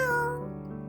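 A stray cat gives one short, clear meow that slides downward in pitch and trails off quickly, close and alone with no voices.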